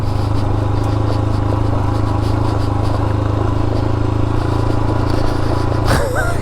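A Royal Enfield Himalayan motorcycle rolls over fresh gravel, its engine a loud, steady droning hum with a gritty crunch of loose stones and a brief rising whine near the end.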